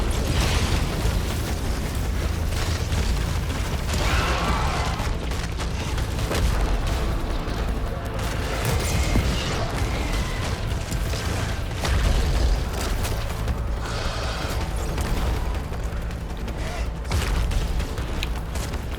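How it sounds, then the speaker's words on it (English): Level 10 carbine firing nonstop in the Returnal video game, a dense stream of booming shots and bursts with explosive impacts, loud and continuous over heavy game noise. "the level 10 carbine here is absolutely shredding him"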